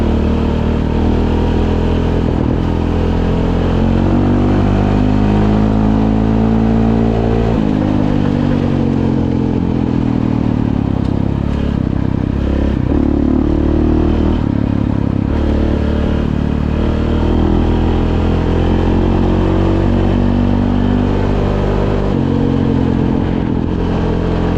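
A 2016 KTM 690 Enduro R single-cylinder engine and exhaust riding on gravel, a steady loud thumping drone with shifting revs and gear changes, the rider close to the bike throughout with no talk.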